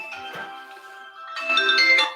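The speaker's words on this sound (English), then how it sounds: "Rule number one, turn phones off, Perry, before presenting." A phone ringtone plays a short melodic tune, bright and clear, repeating with a louder burst near the end.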